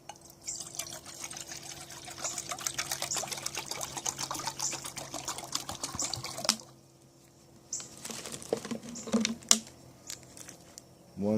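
Water poured from a 20-ounce bottle into an Esbit trekking cook pot, a steady close trickle for about six seconds, then a pause and a few shorter splashes and drips.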